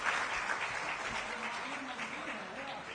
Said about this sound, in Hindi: आप लोग ताली के बढ़िया से बजा के ताली का स्वागत गड़गड़ाहट से ताली का स्वागत